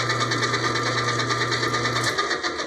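An electric stand mixer turns cake batter with almonds for a raspberry Capri cake, a steady close whirring drone with a rhythmic pulse that drops away near the end, no talk.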